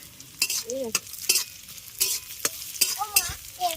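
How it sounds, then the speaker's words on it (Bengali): Small cut pieces of coconut fry and sizzle in a pan while being stirred, with repeated scraping strokes and sputtering bursts over a steady hiss, close and fairly loud, with no talking. "নারকেলটাকে ছোট ছোট টুকরো করে কেটে এবার নারকেলটাকে ভেজে নিচ্ছে"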